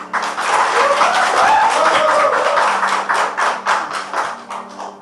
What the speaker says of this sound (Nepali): गृह मन्त्रालयमा उनले त्यो निर्णय सुनाउँदै गर्दा धेरैले ताली बजाए